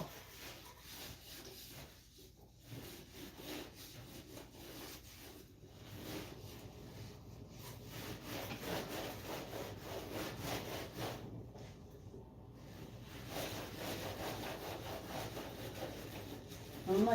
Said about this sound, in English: So I am going to start scrubbing like so.